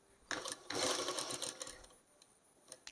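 A sewing machine stitches a churidar slit in short close bursts, a rapid mechanical clatter that starts, pauses briefly, then runs again before stopping.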